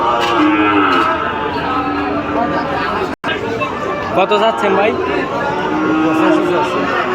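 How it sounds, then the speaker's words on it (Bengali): Calves and cattle crowd a busy village livestock market, with steady chatter and bargaining voices over occasional moos and general hubbub throughout, close and loud. "এই ধরনের অনেক সুন্দর সুন্দর বাছুর কিন্তু এই সাত মাইল হাটে আপনারা পাবেন"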